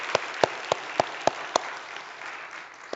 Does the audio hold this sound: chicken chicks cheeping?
no